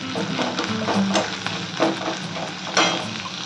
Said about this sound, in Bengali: পেঁয়াজটাকে আমি হালকা করে ভেজে নিলাম